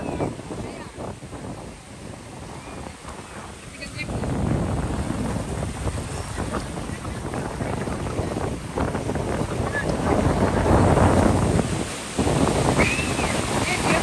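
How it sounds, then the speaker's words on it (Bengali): Rough sea waves rolling onto the beach at Cox's Bazar, a continuous loud surf roar that swells louder midway, with wind buffeting the microphone. "সমুদ্রের উত্তাল ঢেউ, যেই ঢেউয়ে আমরা সর্বস্ব বিলীন করে দিতে এসেছি।"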